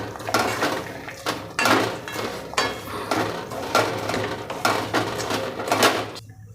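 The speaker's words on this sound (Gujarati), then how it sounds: "હવે જે આપણે ચોકલેટ પીગાળી હતી ને એની અંદર રેડી દઈશું આવી રીતે। હવે આ બધું આપણે મિક્સ કરી લેવાનું।" A spoon stirs dry fruits into melted chocolate in a pan for chocolate chikki, giving repeated scraping and clinking strokes against the metal in an even rhythm, close and fairly quiet.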